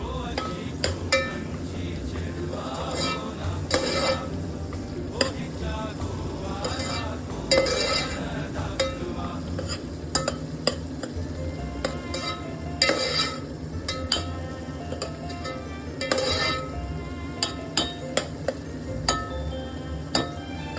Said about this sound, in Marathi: चांगलं तेलामध्ये परतून घ्यायचं.